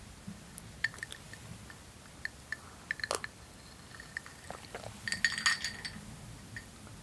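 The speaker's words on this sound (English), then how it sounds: "There's some ice cube sounds for you there." Ice cubes clink against a glass in a quiet room, with light, sharp taps scattered over several seconds and a denser cluster of clinks near the end.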